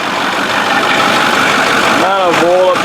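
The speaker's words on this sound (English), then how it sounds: "the noise from this engine, the smoke out the tailpipe, I suspect that the turbo is damaged" A truck engine with a suspected damaged turbo idles loud and close in a steady, rough drone, and a voice talks over it throughout.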